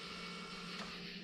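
Steady mechanical whir of a Cummins VP44 fuel injection pump on a 1998–2002 diesel truck with a hot hard-start issue, a constant close hum with no talk.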